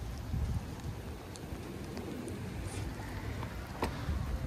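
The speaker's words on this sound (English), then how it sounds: "Oh, and here comes rain." Heavy rain pours down outdoors at a car drifting session, a steady dense wash of broad noise with some wind buffeting the microphone, constant and fairly loud throughout with no voices.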